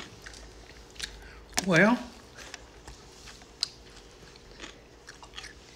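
Close, wet chewing and crunching of a homemade cooked pickle, soft irregular bites broken by a brief spoken word.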